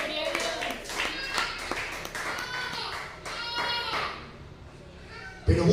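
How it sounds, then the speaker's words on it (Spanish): A church congregation claps during a service, scattered hand claps blending with children's voices and chatter throughout, ending with a sharp knock. "Aplauda el nombre de Jesús."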